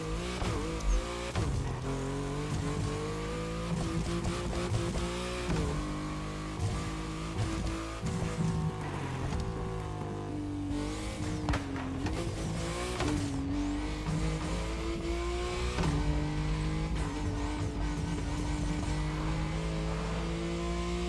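A Porsche 911 engine in the racing game The Crew Motorfest, revving continuously and shifting pitch as it accelerates, with occasional tire squeal, steady and loud throughout with no talk.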